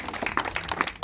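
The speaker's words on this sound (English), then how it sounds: "That, give applause real quick," Brief round of clapping for a boys' sports team after their last game, a handful of people applauding together at close range.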